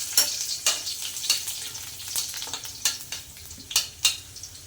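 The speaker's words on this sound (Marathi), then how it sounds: "जिरं मोहरी छान तळतळली की त्यामध्ये टाकायचं आहे आता लसूण" Cumin and mustard seeds fry in hot oil as garlic goes in, giving a close, crackling sizzle broken by repeated sharp spattering pops and stirring sounds at an uneven rhythm, with no voices.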